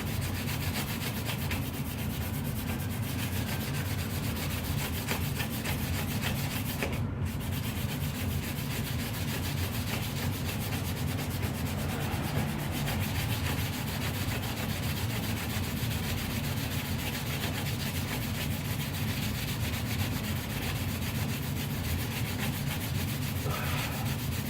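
Hand sanding on a fiberglass truck canopy without a sanding block, a continuous close scratchy rubbing that stays steady and loud throughout, with no talking.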